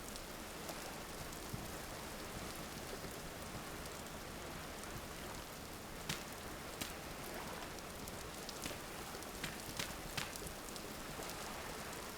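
Steady rain falls in the survival video game Vintage Story, a soft, even hiss of drops with faint scattered patters throughout, quiet and continuous, no voices.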